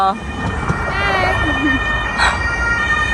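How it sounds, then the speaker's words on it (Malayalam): A wailing ambulance siren sweeps up and down on a street in Graz, fairly close and steady over low traffic rumble, with a brief voice heard near the end. "അവിടെ ദാ ഒരു ആംബുലൻസ് ആണ് പോകുന്നത്"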